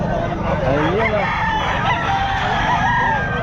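A rooster crows loudly and close by at the Bocaue pet market, with long wavering calls repeated over a busy crowd murmur.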